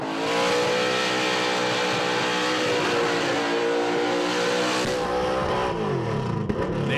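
A race car at a burnout event howls at sustained high revs with its tyres worn almost to nothing, a loud, unbroken roar that drops away abruptly near the end, leaving a faint idle and crowd noise.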